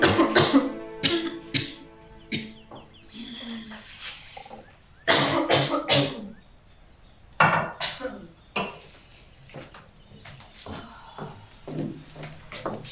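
A person coughs in repeated bursts, close and harsh, some rough and throaty, with light clinks of dishes and small knocks in between the fits.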